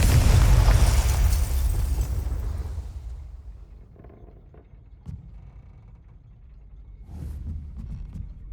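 A Confringo spell explosion in the Hogwarts Legacy video game bursts loud and close into a long rumbling roar that fades over a few seconds, followed by scattered debris clatter and a brief hiss.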